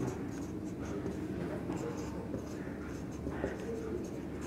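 Chalk or marker scratches steadily across a board during a classroom lecture, a faint continuous scraping with brief pauses between strokes.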